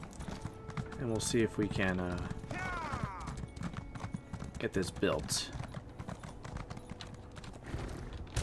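Horse hooves clip-clopping in the video game Elder Scrolls Online, a steady rhythmic trotting under a voice talking over it, with a few brief clicks and a soft whinny in the mix.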